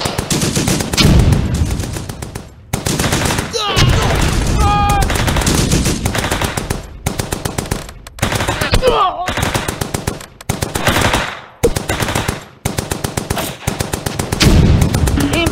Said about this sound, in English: We're under heavy fire!